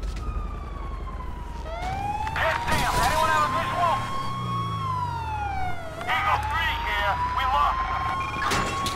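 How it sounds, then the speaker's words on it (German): Police car siren in the video game GTA V, a loud continuous wailing tone rising and falling over several cycles alongside car and game noise, with someone talking over it. "Tja, wie mache ich die verdammte Sirene aus?"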